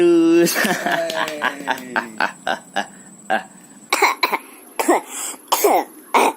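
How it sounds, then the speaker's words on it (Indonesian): A person coughs and clears their throat several times in short, irregular bursts, close to the microphone, with brief pauses between coughs. "Ada suara batuk-batuk dikit, batuk cantik."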